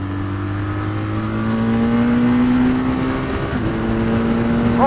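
A motorcycle, ridden on the road, pulls hard after a downshift. A loud, close engine note climbs steadily in pitch and builds for several seconds without a break.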